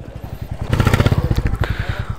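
A Kawasaki sport bike, a Ninja ZX-10R or H2, idles and revs nearby with a loud, rapid pulsing engine beat that swells briefly in the middle.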